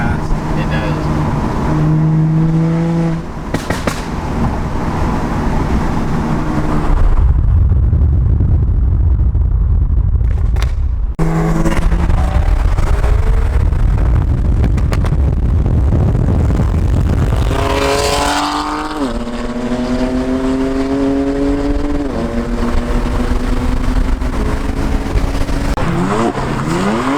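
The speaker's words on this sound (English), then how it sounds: "First gear revs up stupid fast." A BMW N55 turbocharged engine with an intercooler upgrade is revved hard through first gear, with loud, repeated rising pitch sweeps and short pauses between pulls, heard close and alone.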